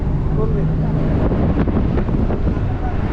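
Strong desert wind roars and buffets the microphone steadily for the whole stretch, loud and close, among sand dunes in Iran.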